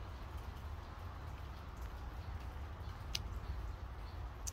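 Steady rain falls outside a house with a swimming pool, heard from indoors as a continuous even hiss with a few faint drip ticks, and no talking.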